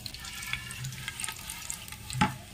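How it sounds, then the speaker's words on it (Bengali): Whole spices dropped into hot mustard oil, a close crackling sizzle with light stirring clatter and a sharper metallic knock near the end. "সর্ষের তেলটা গরম তেল দিয়ে নিয়েছি, এখন এর মধ্যে খাড়া গরম মশলাগুলো দিয়ে দেবো"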